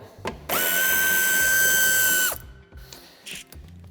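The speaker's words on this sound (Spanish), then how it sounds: "quitamos el tornillo que sujeta el paragolpes de cabeza de 8" A socket turning out the 8 mm bumper screw on a 2019-2024 BMW 1 Series F40 gives a loud, steady mechanical whir of almost two seconds, bracketed by brief clicks before and after.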